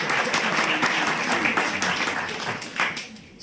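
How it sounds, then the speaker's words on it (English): A forum audience claps for its panelists, a dense, even burst of applause filling the room and tapering off slightly at the close. "let's give a round of applause to our panelists"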